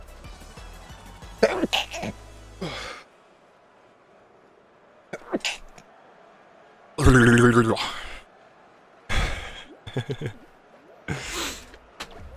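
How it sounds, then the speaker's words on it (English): Several short, sharp bursts separated by quiet gaps, like a person sneezing and snorting close by, with breathy sounds in between. "I'm gonna sneeze."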